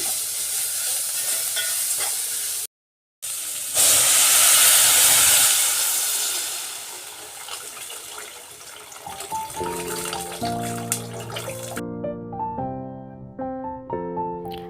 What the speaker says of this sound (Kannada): ಟೊಮೆಟೊ ಎಲ್ಲ ಹಾಕ್ಕೊಂಡು ಚೆನ್ನಾಗಿ ಫ್ರೈ ಮಾಡಿದ್ದಾದಮೇಲೆ ಉಪ್ಪು ಅರಿಶಿನ ಪುಡಿ ಸೇರಿಸ್ಕೊಂಡು ಸ್ವಲ್ಪ ನೀರು ಹಾಕಿ ಅದನ್ನು ಕುದಿಯೋಕೆ ಇಡ್ತಾ ಇದ್ದೀವಿ